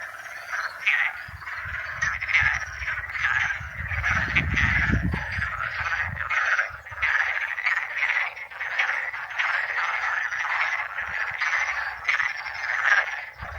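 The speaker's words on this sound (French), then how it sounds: "il y a une mare avec des centaines de grenouilles" A dense chorus of hundreds of frogs croaking together in a pond on Madeira, loud and continuous, with a low rumbling burst partway through.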